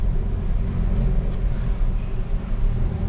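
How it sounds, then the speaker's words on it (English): A 2022 Hyundai Kona N SUV engine (280 HP) rumbles loudly and steadily at close range, a deep continuous exhaust drone with no break, at night. "this car has the very impressive exhaust sound"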